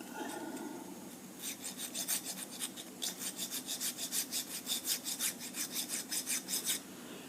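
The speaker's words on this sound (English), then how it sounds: "we'll go ahead and sharpen that one a little bit" Repeated rasping file strokes sharpening a ship auger bit, a steady rhythmic series of close, fairly quiet scrapes that begin after a brief pause and continue for several seconds.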